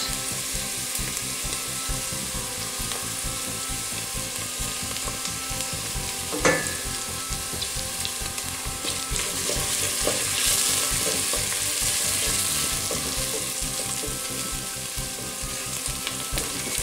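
Onion and chopped garlic fry in a pan with a steady, gentle sizzle, broken by occasional stirring scrapes and a sharp clink partway through, and no voices.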